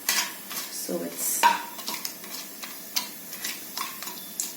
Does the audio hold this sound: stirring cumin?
yes